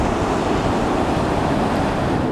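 Ocean surf washes onto the beach at Huntington Beach, California, a loud, continuous roar of breaking waves mixed with wind buffeting the microphone, with no voices.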